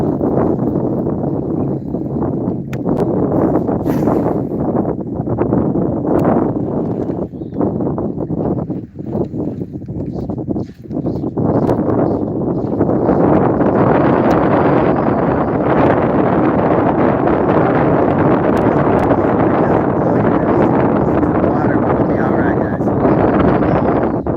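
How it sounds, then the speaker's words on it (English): Strong wind blows outdoors on a lake during bass fishing, buffeting the microphone with loud, continuous rumbling gusts that last the whole stretch. "The wind blew you guys in that direction."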